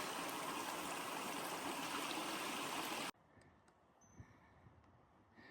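Rushing stream at a water source along the Pacific Crest Trail, a steady loud wash of flowing water that cuts off abruptly partway, leaving faint outdoor ambience.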